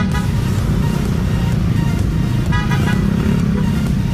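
Dense road traffic from a political campaign car caravan in Pangasinan, a constant loud rumble of engines with repeated car horn toots and honks sounding across it.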